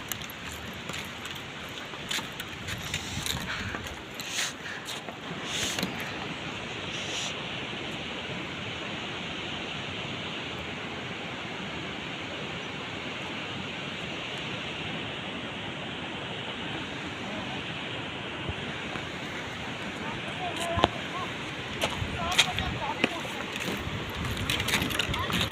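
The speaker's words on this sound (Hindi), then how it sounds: "ये हमारा झरना आ चुका है" A waterfall roars in a steady, dense rush of falling water outdoors, continuous and fairly close, with a few brief knocks and bumps near the start and end.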